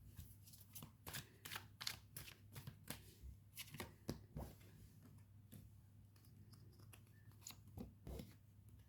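Tarot cards shuffled and handled close up, a quiet, steady run of crisp riffling flicks and soft taps against a faint background hum, with no talk.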